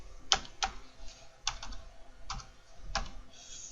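Keys on a computer keyboard are struck in a short, sparse sequence of distinct clicks, a handful of sharp taps with small gaps between them, close by and fairly quiet.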